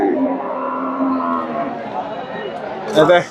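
Friesian heifers at the Dhap cattle market in Bogura, Bangladesh, one long low moo close by followed by a brief higher bellow, with crowd murmur around.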